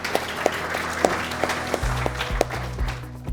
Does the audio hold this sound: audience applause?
yes